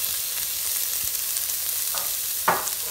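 Chopped leek and green and yellow peppers sizzle steadily in a pan as a sauté base for a salt cod lasagna, a close, constant frying hiss broken by a couple of short stirring scrapes, with no voices.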